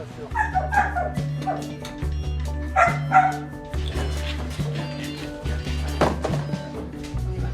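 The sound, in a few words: Belgian Malinois dog whimpering and barking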